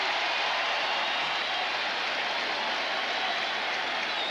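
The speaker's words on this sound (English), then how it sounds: "Crowd has really come alive." A large ballpark crowd at the 1983 World Series game between the Phillies and Orioles roars in sustained cheering and applause, a dense, steady wash of noise with no break.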